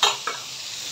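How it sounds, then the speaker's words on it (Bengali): Large prawns rubbed with salt and turmeric fry in a hot pan, giving a brief hissing sizzle with a soft clatter near the start that fades to a low steady crackle. "মাছটা ভেজে ফেলি, মাছগুলো একটু ভেজে নিলে সুবিধা হয়।"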